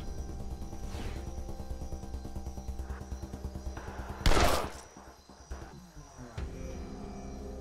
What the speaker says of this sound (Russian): Неплохой выстрел.